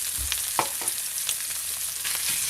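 Porcini mushrooms fry in rendered fat with a bright, close sizzle and crackle, punctuated by a few soft stirring scrapes and spatters, with no one speaking.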